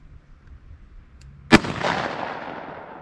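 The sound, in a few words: gunshot firing Hornady Critical Defense 44 Special ammunition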